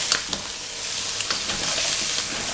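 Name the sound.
calamari and green peppers frying and being stirred in a pan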